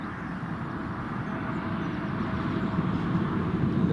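Broad, steady roar of an Air France Embraer 170 regional jet at Newcastle International Airport, a rumbling engine noise that swells slightly louder toward the end, heard with no talking.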